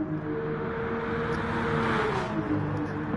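A McDonald's-liveried Porsche GR3 race car engine in Gran Turismo Sport drones steadily near the last corner, a continuous loud hum with a slight rise in pitch toward the end.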